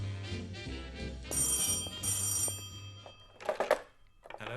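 An old-style telephone bell rings in a few separate bursts, fairly close and clear, with a dull thunk near the end and no talk.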